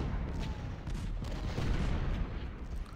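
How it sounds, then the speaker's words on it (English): Civil War artillery cannons in Ultimate General: Civil War fire in low, rumbling booms that overlap into a continuous distant barrage. "I've been firing a lot on this bit of artillery here"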